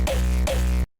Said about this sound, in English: But I also added another click at the beginning, so the kick sounds like this.